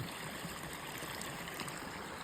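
Irrigation water flows at night through a farm channel, a steady broadband rush and gurgle that holds evenly throughout, close by and with no voices.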